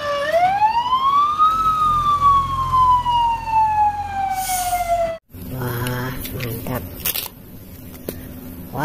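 A toy fire engine siren sweeps up and then slowly falls in one long, clear electronic wail, followed by a different choppy warbling tone, with a voice speaking over the toy sounds.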